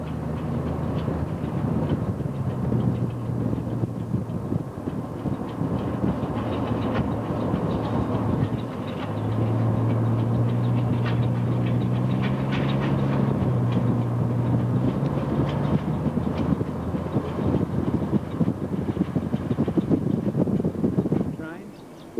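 A Queensland Rail heritage train with six carriages rumbles past on the Kingaroy branch, a steady low roll with wind buffeting the microphone and people talking over it throughout.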